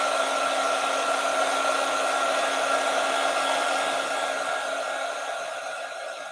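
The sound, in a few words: hair dryer drying a drawing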